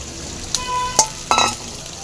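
Onion, garlic and green chili fry in a pan with a low, steady sizzle, broken by a few sharp clinks and scrapes of a utensil stirring against the metal, close by.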